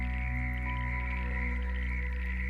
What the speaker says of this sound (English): the nighttime calls of frogs form a living chorus across ponds and marshes